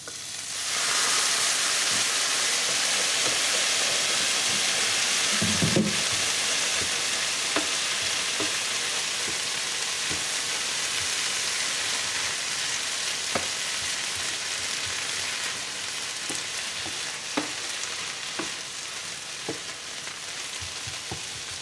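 Rice sizzling and frying steadily in a hot pan with soy sauce, a continuous crackling hiss broken by occasional sharper pops and stirring scrapes, close and fairly loud, with no talking.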